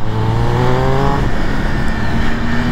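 A Triumph Speed Triple 1200 RS motorcycle on the Carole circuit accelerates steadily through the gears, its engine loud and close, with the pitch rising and then dropping at a gear change before climbing again.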